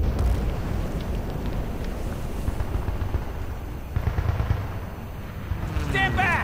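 A bomb blast in the game Battlefield Bad Company 2 gives a heavy low rumble and a roaring boom that rolls on and then swells again, with game voice chatter and a brief high whine near the end.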